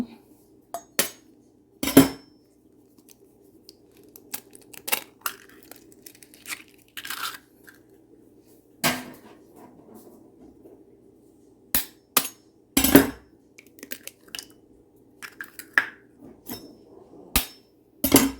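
Four eggs are cracked for a charlotte cake, giving sharp, close knocks and clinks against a bowl, scattered irregularly over a faint steady hum, with softer taps and shell crackle in between.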